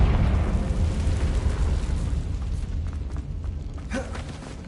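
A Confringo fire-spell explosion from Hogwarts Legacy, a broad rumbling blast that starts loud and slowly fades into a low roar, with a brief brighter crackle near the end.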